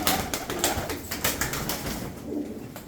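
Pigeons coo and flutter up close at a live pigeon auction, soft calls and brief wing flaps repeating over a few seconds, with no talk.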